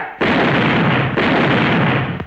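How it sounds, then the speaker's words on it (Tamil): Loud firecrackers bursting in two long, dense crackling rolls, each a rapid run of sharp pops that fills the clip, with a brief gap between them and a final bang near the end, in a Tamil film comedy scene. "அதான் வெடி போட்டுட்டு இருக்கிறேன்"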